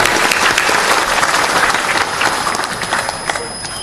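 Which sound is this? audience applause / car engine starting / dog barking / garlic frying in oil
audience applause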